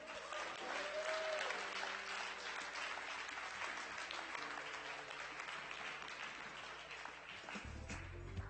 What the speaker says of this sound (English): let's go ahead and give a huge round of applause for all of our judges